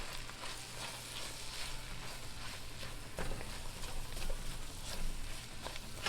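Chili with cumin, wagyu and rib tips being stirred in a pot, a steady close sizzle with soft scraping and patter from the spoon running throughout, no voices.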